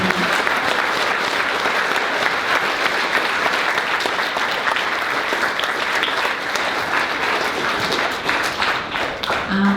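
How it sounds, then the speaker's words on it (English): An audience claps for students at a school presentation day ceremony, producing a loud, sustained wash of applause lasting nearly ten seconds, with faint crowd murmur mixed in. "So can we have a round of applause for all of our students, please?"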